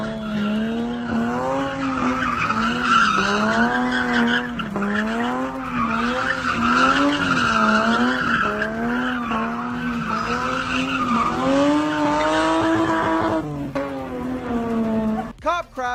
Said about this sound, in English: Cop crashed into a car to stop the chase.